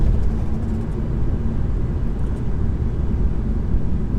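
A 2013 BMW 320d E92 coupe with a diesel engine and ZF eight-speed automatic is driven along, giving a steady, loud low-frequency road and engine rumble heard from inside the cabin without any talking.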